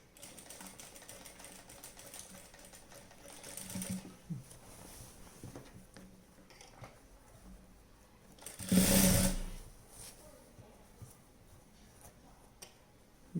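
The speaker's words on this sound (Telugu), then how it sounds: "ఇదే ప్రకారంగా ఇది స్టిచ్ చేసుకోండి" A sewing machine stitches a night dress in short runs, with one loud close burst of rapid needle clatter amid quieter ticking and handling noise.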